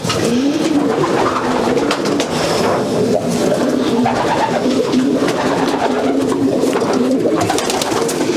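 Racing pigeons cooing in a pigeon loft, a dense, continuous chorus of low throaty coos from many birds close by, with rustling and faint wing flutters throughout.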